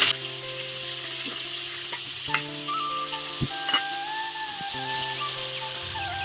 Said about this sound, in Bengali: এবার কিন্তু আমি এই যে লবণ হলুদ মাখিয়ে রাখা যে মাছগুলো সেগুলোকে কিন্তু ভেজে নিচ্ছি।